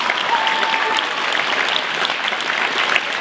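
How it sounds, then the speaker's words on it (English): A big round of applause fills a high school auditorium, steady and dense clapping from a large audience that holds at a constant loud level throughout, with no voices rising above it. "Can we give a big round of applause?"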